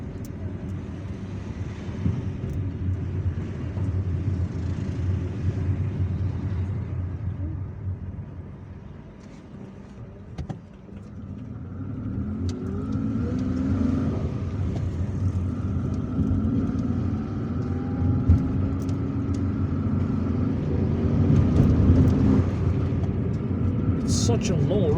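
Road traffic near the Carmel Bridge in Algiers, a continuous low engine drone and tyre rumble that dips briefly and then swells again as vehicles pass nearby.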